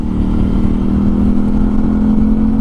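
A Suzuki DL 650 V-Strom motorcycle engine runs at a high, steady 3000 rpm nearby, a loud droning buzz with a strongly vibrating rattle.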